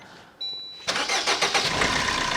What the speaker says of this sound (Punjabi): ਲਾਈਵ ਮਿੱਤਰੋ ਤੁਹਾਨੂੰ ਸਟਾਰਟ ਕਰਕੇ ਦਿਖਾ ਦਿੰਨੇ ਆ ਬਾਈ ਕਾਰ